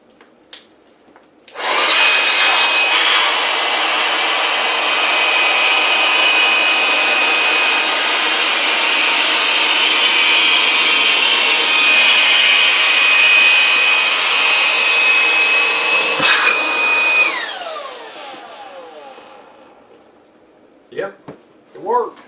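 A pump inflates a Sevylor Rio inflatable boat: a loud, steady motor whine with a high tone starts abruptly, runs for about fifteen seconds, then winds down, followed by a few faint knocks.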